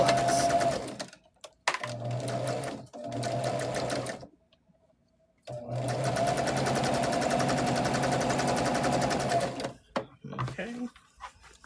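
Sewing machine joining quilt rows for a disappearing nine-patch table topper, running close and steady in several bursts with short pauses between, the longest run in the second half.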